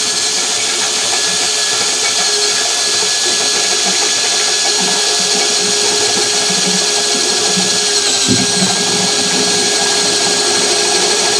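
A power drill fitted with a stepped bit boring into iron, a loud, constant whine and grinding roar held without pause from start to end, close by.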